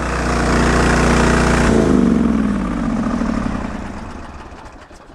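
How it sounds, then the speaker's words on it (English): A Briggs & Stratton 20HP V-twin engine on a Sears loader moving snow roars steadily, then abruptly loses power and winds down, its sound sagging and fading away toward the end. "Oh, there goes the end of the Sears engine."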